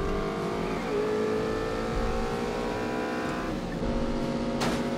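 Race car engine in The Saboteur, steady and loud, holding a high droning pitch that drops sharply near one second and again near three and a half seconds as it shifts gears, with a brief squeal near the end.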